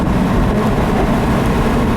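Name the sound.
sports car exhaust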